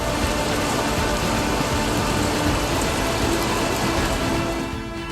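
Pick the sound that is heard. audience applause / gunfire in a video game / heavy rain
heavy rain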